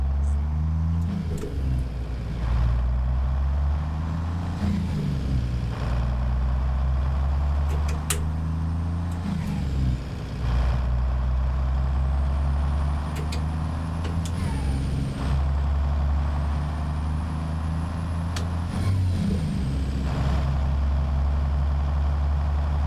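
A truck engine idles with a loud, steady rumble close by, broken by several sharp hissing bursts as air brake pressure is released.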